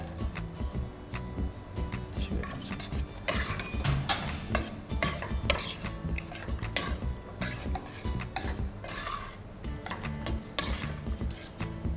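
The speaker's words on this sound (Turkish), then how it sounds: "Normal erimiş tereyağımızı çikolatayla özleştiriyoruz." A utensil stirs melted butter and chocolate in a pan on the stove, making steady scraping and clinking against the pan, close and continuous, with no talking.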